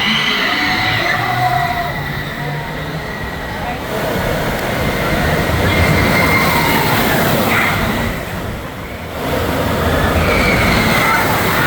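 Six Flags Great America roller coaster train rumbling along its track in a loud, steady roar of wheels and rail noise, swelling and dipping briefly, with a voice faintly audible underneath.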